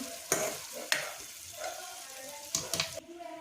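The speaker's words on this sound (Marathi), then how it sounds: "तर सर्व भाज्या व्यवस्थित फ्राय होऊन द्यायच्या" Chopped vegetables for pav bhaji frying in a pan give a soft continuous sizzle. A spatula stirs and scrapes through them several times, with a few sharp clacks against the pan, close by.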